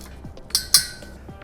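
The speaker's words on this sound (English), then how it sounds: "Then I'll use just a regular socket driver to snug those up." A socket driver snugs bolts on a steel post base plate, giving two bright metallic clinks about a quarter second apart amid faint light clicking.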